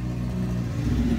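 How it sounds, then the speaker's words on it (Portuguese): A noisy car rumbles past outside in a brief, steady low drone with a rattling engine note, heard from indoors without any voices. "Carro barulhento"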